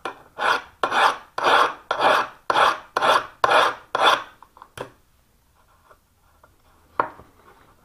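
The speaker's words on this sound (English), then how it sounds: "if I'm filing at the wrong angle, I can see that happening on the edge and correct the angle." A file rasps along the bevel edge of a sash profile scraper in eight steady, evenly spaced strokes, close and clear, followed by a few light scrapes and a final sharp stroke.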